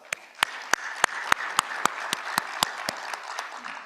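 Applause from a conference audience at an opening session, with one nearby pair of hands clapping in a sharp, even rhythm over softer crowd clapping behind.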